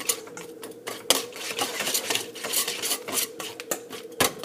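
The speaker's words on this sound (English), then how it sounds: "I'm just going to use a whisk and whisk them all together." A whisk beats mashed bananas into pancake batter in a bowl, giving a rapid, steady clinking and scraping rattle with sharper knocks now and then, close and fairly loud with no talk.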